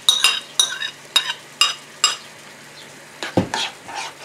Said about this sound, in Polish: Chwilkę podgotuję na małym ogniu.